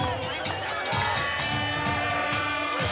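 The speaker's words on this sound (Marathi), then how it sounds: "आपला भिडू बच्चू कडू म्हणत तेथील प्रत्यक्षदर्शींनी जल्लोष केला" Spectators cheer at a kabaddi match, a steady crowd roar with shouts throughout, fairly loud and continuous.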